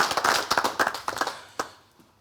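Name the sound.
audience clapping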